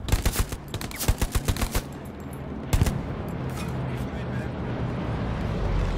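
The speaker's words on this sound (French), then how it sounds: "On tire dessus." Rapid gunfire in the video game Hell Let Loose: a burst of sharp automatic shots and single cracks early on, then one more volley before fading into a low background rumble.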